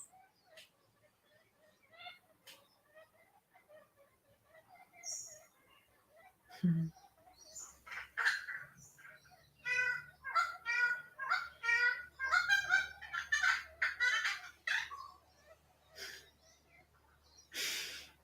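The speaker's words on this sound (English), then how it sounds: "I love listening to those birds." Geese honk in a noisy series of calls, sparse at first and then a dense burst of repeated honking over a low background rumble.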